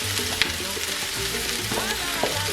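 Courgettes and red peppers hit a hot pan and sizzle loudly in a steady, close frying hiss, with light clatter as the vegetables settle.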